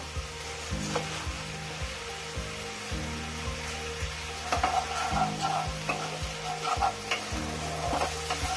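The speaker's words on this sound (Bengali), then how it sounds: "মশলাটা একটু কষে নেব" Spice paste with a splash of water is stir-fried in a pan for a Bengali potol korma. It gives a continuous sizzle with rhythmic, repeated spatula scrapes at close range, heard alone.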